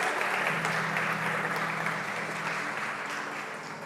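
A church congregation applauding, a loud, steady wash of many hands clapping together that holds for several seconds and slowly eases off toward the end.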